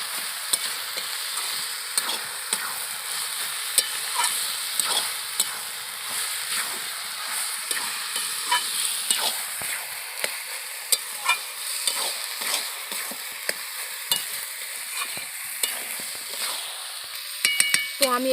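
Boiled potato and cabbage with chicken skin and chilli are sautéed and stirred in a pan, giving a steady close sizzle with frequent scraping and ladle clicks and no talk.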